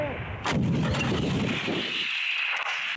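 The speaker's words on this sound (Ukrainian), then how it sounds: "Поруч гатить більш потужна зброя, Д-30. Гармата!" A D-30 howitzer fires with a sharp, heavy blast near the start, followed by a long rolling boom and rumble that slowly fades.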